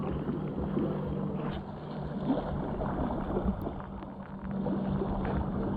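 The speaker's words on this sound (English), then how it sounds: "Here comes this tanker. Look at this. It's huge." A huge tanker ship passes on the Hudson River during a carp and catfish fishing outing, a low steady engine rumble with broad water and wind noise at moderate distance, no talking.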